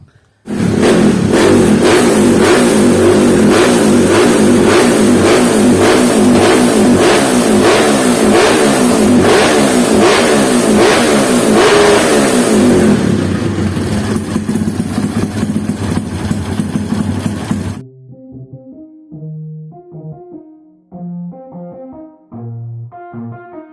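A car fitted with a Mitron X 66mm exhaust revs hard and close, a loud, sustained roar with rising and falling throttle blips for about seventeen seconds, then cuts to music.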